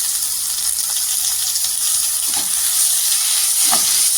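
Tomatoes sauté in hot oil with a loud, steady sizzle and hiss, close up, broken by a couple of soft knocks from stirring.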